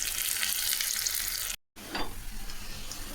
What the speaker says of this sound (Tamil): கொஞ்சம் கடுகு போட்டுக்கலாம். வெங்காயம் போட்டுக்கலாம். கறிவேப்பிலை போட்டுக்கலாம்.